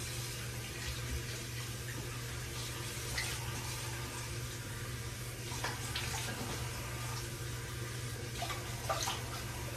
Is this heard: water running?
yes